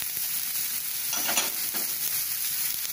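Beans, green onion, carrot and cabbage stir-frying in a pan for veg manchow soup, a constant hissing sizzle with a few louder scraping stirs midway, close up.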